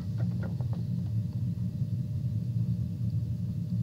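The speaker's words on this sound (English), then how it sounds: "if you hear that rumbling sound, that's the sound of the smash bunker" A smash bunker's low, steady rumble drones continuously at moderate level, with a few faint clicks near the start and no voices.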